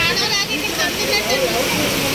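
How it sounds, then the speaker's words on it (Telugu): Heavy rain pours down in Hyderabad's Manikonda area during flooding, a dense continuous roaring wash of water, loud and close, with a voice talking under it. "హైదరాబాద్ని ముంచేసిన భారీ వర్షం"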